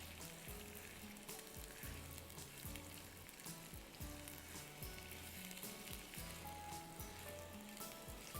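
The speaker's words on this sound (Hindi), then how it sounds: "इसको भी आपको इतनी देर फ्राई करना है, इसको टाइम लगेगा, 7-8 मिनट लगेंगे, जब तक कि प्याज सॉफ्ट हो जाए।" Sliced onions frying in olive oil in a pan give a steady, dense sizzle with crackling spatter that runs unbroken through the whole stretch, fairly close and moderately loud, with no talking.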